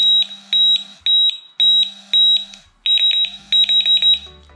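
A Delkim fishing bite alarm paired with its receiver sounds a series of loud, high-pitched electronic beeps in quick groups, close by and repeating with brief gaps, with no voices over it.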